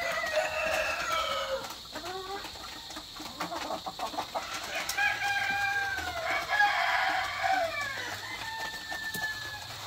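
Leghorn chickens on a farm: a string of clucks and drawn-out squawks, with brief crow-like calls rising and falling, fairly near against a low background hum and no talking.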